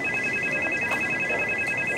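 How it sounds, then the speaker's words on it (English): A Back to the Future–style toy phone rings with a steady electronic two-tone trill that holds without a break, set against a soft background hum. "I have to call Chase from the past with my Back to the Future phone."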